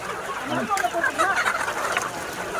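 Chickens on a farm of 1500 birds at feeding time cluck and call close by in a busy overlapping flock chorus, with faint human voices mixed in.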